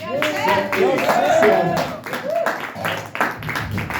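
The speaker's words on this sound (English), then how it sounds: "give a nice, warm round of applause to Seth Paletis?" An open mic audience at a brewery in West Lebanon, New Hampshire claps in a scattered round of applause, moderately loud, with people talking over it.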